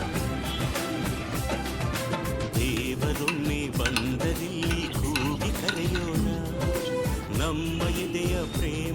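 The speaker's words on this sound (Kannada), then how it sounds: "ಇವಾಗ ಎಲ್ಲ ಚೆನ್ನಾಗಿ ಮಿಕ್ಸ್ ಮಾಡ್ಕೊಳ್ಳಿ." A spoon stirs Ugadi pachadi made of mango, neem and jaggery in a bowl, giving continuous close scraping and clinking with a wet, mushy texture and no voices.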